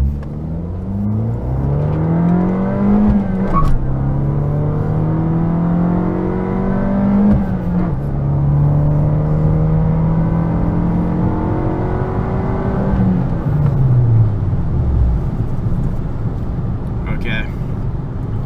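A Fiat Abarth 500 in non-sport mode accelerates hard with turbo boost, its engine note climbing steadily in pitch through gears with brief drops at shifts, loud and close from inside the cabin.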